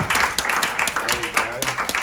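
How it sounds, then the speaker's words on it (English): Brief round of clapping from an audience following a live poetry interview and Q&A, scattered claps with a voice speaking over it. "Can we have another round of applause?"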